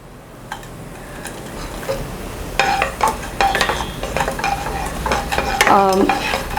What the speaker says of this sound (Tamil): இது ஜஸ்ட் இப்போ கொஞ்ச நேரம் எண்ணெயில் இதை வதக்குறோம்